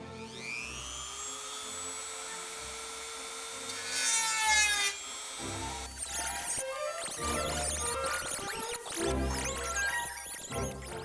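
A high-pitched Dremel rotary tool whines up, then grinds and rasps while cutting a metal mower deck in uneven bursts, loud and close, with no talking.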